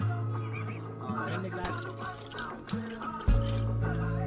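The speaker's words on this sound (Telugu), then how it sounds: "6 గ్లాసులు నీళ్ళు వేసుకుంటున్నాము" Water splashes and gurgles as it is poured into a pot of rice for chicken biryani, with a person speaking quietly nearby.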